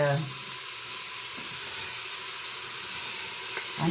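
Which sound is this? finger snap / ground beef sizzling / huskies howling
ground beef sizzling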